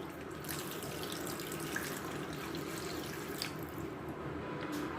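A cup of water is poured into chopped ash gourd with turmeric and mustard oil, giving a steady, soft splashing trickle that runs alone for several seconds.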